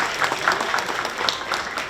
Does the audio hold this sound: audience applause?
yes